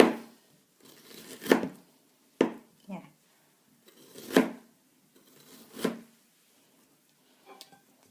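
A knife cuts through star fruit in several separate crisp slices with pauses between them, while a person talks softly in the background.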